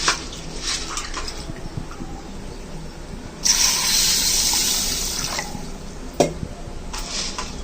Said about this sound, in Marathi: ही शेवळी ना धुवून घेते आणि मग ठेवून घेते